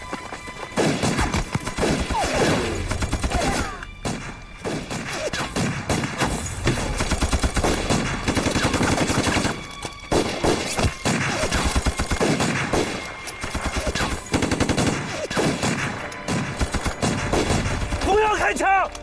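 Dense, continuous gunfire fills a war-film ambush on Japanese troops during the anti-Japanese war. Rifle shots and machine-gun bursts overlap loudly for the whole stretch, with shouted voices breaking through now and then.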